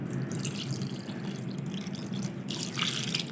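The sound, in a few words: adding water to grated potatoes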